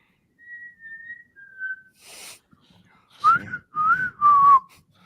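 Someone whistles a few soft sustained notes, then, after a brief rustle, three louder, rising whistled phrases in quick succession, close by.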